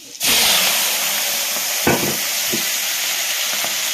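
Cumin seeds, tempering spices and onion fry in hot oil, starting with a sudden loud sizzle that settles into a steady close hiss, with a few stirring knocks.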